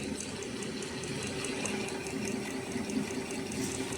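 A fully automatic flat mask ear strap cross welding machine runs steadily and quietly, giving a continuous mechanical hum with a fast, regular ticking of repeated welding strokes.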